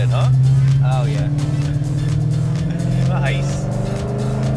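A 2013 Ford Mustang Boss 302 with a performance build drives along a road, its engine a steady low rumble with a brief rev rise, loud and close throughout while occupants talk over it.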